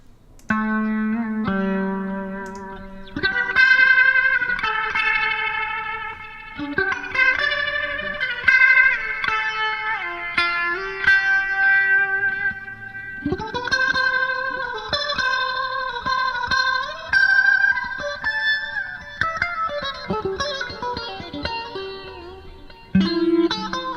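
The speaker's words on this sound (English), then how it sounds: "let's put a bit of reverb and delay on that and see what happens then" Electric guitar played through an IK Multimedia Leslie rotary-speaker effect with reverb and delay, sustained chords and melodic lines swirling and warbling, tails echoing into each other across a continuous passage without talk.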